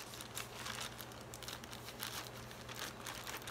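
A new hand embroidery kit's plastic packaging crinkles and rustles as it is unwrapped, a close, continuous crackling with irregular bursts and no speech.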